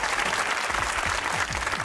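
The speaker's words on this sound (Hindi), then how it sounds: "तालियां।" A studio audience claps on a TV comedy talk show, loud continuous applause from a crowd with no talk over it.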